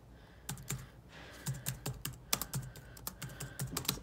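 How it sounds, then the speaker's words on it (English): Fingers tap out quick, irregular bursts on the keys of a 2009 MacBook, each click crisp and close. The typing is light and runs in short flurries with brief pauses, and no one speaks. "As you can tell, if I type on this,"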